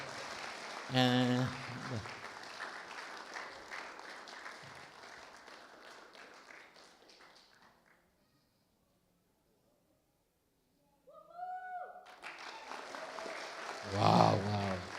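Wedding guests applaud in a sustained burst of clapping that fades into silence, with a voice speaking briefly before the clapping and again when it resumes loudly near the end.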